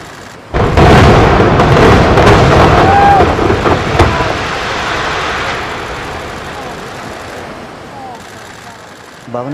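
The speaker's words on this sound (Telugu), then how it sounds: "పాక్షికంగా కూలిపోయినటువంటి భవనాన్ని బాంబుల సాయంతో అక్కడి సిబ్బంది" A partially collapsed condo building in South Florida brought down by controlled explosive demolition: a sudden loud blast followed by a long rumbling roar that slowly fades over several seconds, heard from a distance.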